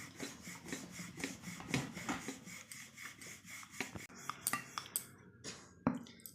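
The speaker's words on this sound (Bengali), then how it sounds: "এইভাবেই সব কটা বেলে নেব অল্প অল্প ময়দা দিয়ে দিয়ে ভালো করে বেলে নেব" A rolling pin works coriander paratha dough with a light dusting of flour, making rhythmic rasping strokes that repeat steadily at close range and then turn into sparser knocks and scrapes.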